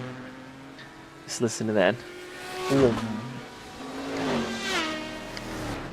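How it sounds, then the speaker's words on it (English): Race cars roar past one after another on the Gotham City track in Second Life during a GTSE round, each pass swelling and falling away with a pitch drop, while a voice speaks briefly over them. "I wanted to have this track so you can hear these cars fly by."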